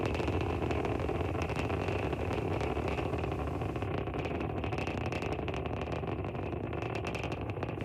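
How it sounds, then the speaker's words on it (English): A SpaceX Falcon 9 first stage climbs through flight toward supersonic speed on the SpainSat NG I mission, its engines giving a steady, dense roar and crackling rumble that runs unbroken throughout, with no voices. "We can hear the characteristic rumble as the first stage heads into space"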